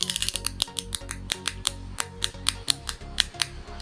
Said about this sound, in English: We're going to take our paracord, and then just cut.